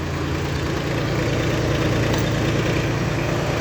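A Massey Ferguson 6026 tractor engine idles close by with a steady, even low rumble and fine vibration noise that stays constant throughout, without speech.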